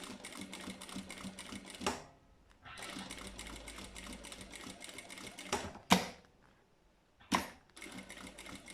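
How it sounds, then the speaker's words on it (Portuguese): Sewing machine stitching bias binding onto faux leather (napa) with a Teflon presser foot, sewing close to the edge in several steady runs separated by short pauses and clicks. "Aqui bem rentinho, no ponto máximo da máquina. E passamos aqui uma costurinha aqui no viés."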